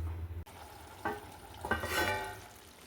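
A mushroom curry for biryani is stirred in a pan: a few short, quiet scraping strokes with a soft sizzle underneath, close and faint, with no talking.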